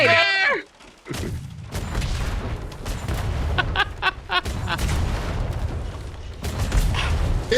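A broadside of ship cannons in the game DarksideRP booms in a ragged fusillade of heavy, overlapping blasts, loud and close, with a dog-like bark and voices mixed in.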